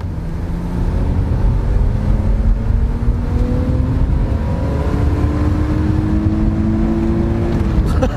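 BMW 323ci convertible running on ethanol, its engine revving up in a long steady climb, loud and close with a rising drone that holds near the top before easing off.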